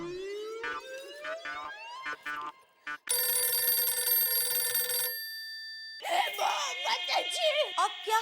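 A telephone rings during a domestic comedy scene, a rising electronic ring followed by a long steady tone and then warbling ring bursts, loud and close with no talk over it.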